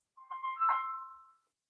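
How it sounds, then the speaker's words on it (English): A single short melodic phone ringtone phrase, clean and moderately loud, swelling and then fading out after about a second, with no voices. "My phone ring."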